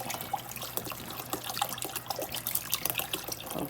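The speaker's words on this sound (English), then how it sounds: "I'm gonna put a little bit more water in there." Water pours steadily into a cooking pot with a continuous splashing trickle, close up and fairly loud, with no talking.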